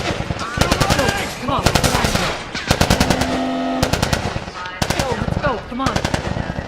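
Automatic gunfire in a Last of Us Remastered firefight, repeated loud rapid bursts close by, with shouting voices in between and a brief lower tone in the middle.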